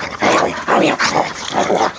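A dog lets out four loud, close, drawn-out barking whimpers in an even rhythm during an animal transport.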